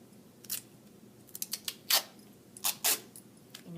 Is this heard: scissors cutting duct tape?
yes